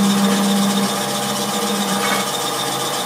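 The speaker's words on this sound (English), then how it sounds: "can actually take the carbide and rotate it and get a really nice smooth cut" A carbide lathe tool cuts a spinning resin and wood goblet, giving a loud, steady rasping hiss over the motor's tonal whine, continuous and close.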